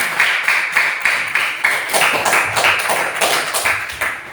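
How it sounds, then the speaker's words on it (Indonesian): A group claps together for a school at a university teaching-practice event, a steady, rhythmic patter of applause, close and fairly loud, continuing for a few seconds without talking. "Tepuk tangan dulu untuk 3."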